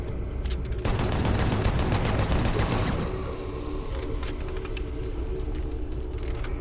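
Sustained chain gun fire from a commando zombie in Doom 3, a dense rapid rattle of shots for about three seconds, then fading into lingering mechanical rumble and ambient hum.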